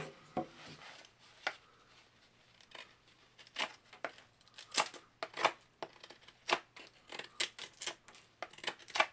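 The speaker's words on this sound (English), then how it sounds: "Do some testing now just to see how it does cutting wood." An unsharpened factory-edge Condor Barracuda knife cuts into wood, giving irregular bursts of crisp chops, scrapes and shaving strokes that come close and clear with short pauses between them.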